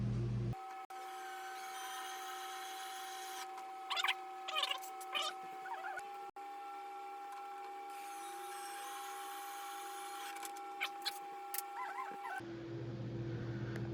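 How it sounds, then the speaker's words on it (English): The last screws are driven into a proton pack prop, producing a steady tonal whirring in two long runs broken by short squeaky bursts, close and fairly quiet. "Go ahead and screw these last 2 in here."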